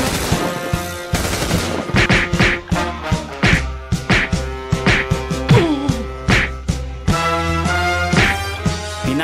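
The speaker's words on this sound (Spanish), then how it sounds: "Por tal motivo inician unos madrazos y disparos por todo lado." Action-movie gunfire and fight sounds, with rapid bursts of shots and sharp punches and whacks landing in quick succession, loud and close over a tense musical score, with no talking.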